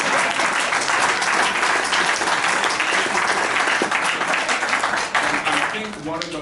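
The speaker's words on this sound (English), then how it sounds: "y'all can applaud" Audience applause at a founders' Valentine event, a dense, loud sustained clapping that fills the whole clip and fades slightly near the end.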